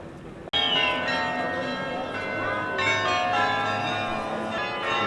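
Church bells ring out over a town square in Delft, a loud, rich peal of overlapping bell tones that swells in after a brief pause and keeps sounding with layered strikes and long ringing decay.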